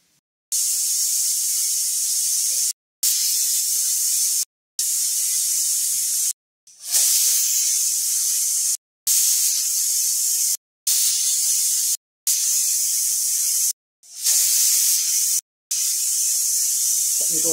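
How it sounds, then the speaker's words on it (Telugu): A pressure cooker full of dried peas for chaat sends out loud, near bursts of hissing steam, about nine in a row, each lasting one to two seconds and split by short silent gaps. "కుక్కర్ విజిల్ వస్తుందేమో చూపిస్తానండి"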